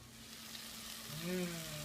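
Tomatoes for rajma masala sizzle and fry softly in a pan, a faint steady crackle with a brief low hum rising near the end.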